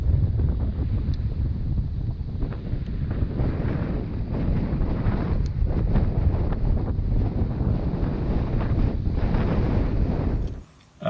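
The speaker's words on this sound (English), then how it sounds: "we've got 20-mile-an-hour winds today" Strong 20-mile-an-hour wind at a farm pond buffets the microphone in a continuous loud rumble with gusty surges, cutting off abruptly at the end.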